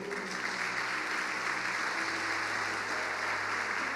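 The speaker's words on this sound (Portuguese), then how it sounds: "Você pode dar um aplauso ao Senhor?" A church congregation at a Wednesday evening service claps in sustained, dense applause, with a low steady hum running beneath the even wash of handclaps.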